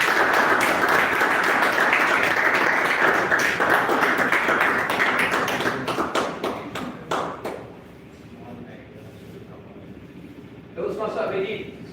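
A Toastmasters club audience in Jaipur applauds a speaker coming on stage, dense loud clapping for about seven seconds that then thins and fades, with a brief burst of sound near the end.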